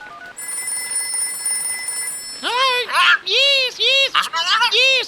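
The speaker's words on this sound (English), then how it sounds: "Jemima's mum had got on the phone." Telephone sound effect in a read-aloud story: steady electronic dialing and ringing tones sound for a couple of seconds before a voice starts speaking over them.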